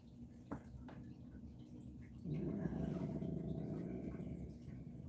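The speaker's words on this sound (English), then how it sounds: "Oh, if my dog's making noise, that means I'm hurting him, right?" A dog growls low and continuously, a rumbling sustained growl that starts midway after a couple of faint knocks and carries on to the end, close by and moderately loud.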